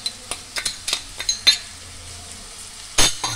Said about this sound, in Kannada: ಶುಂಠಿ ಬೆಳ್ಳುಳ್ಳಿ ಪೇಸ್ಟ್ ಕೂಡ ನಾನು ಇಲ್ಲಿ ಒಗ್ಗರಣೆಯಲ್ಲಿ ಹಾಕ್ಕೊತ ಇದ್ದೀನಿ